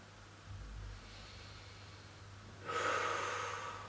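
Calm, slow breathing while holding a yoga stretching position, close and soft: a quiet inhale followed by a longer, airy exhale, with no talking.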